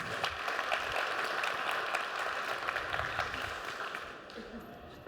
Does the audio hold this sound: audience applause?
yes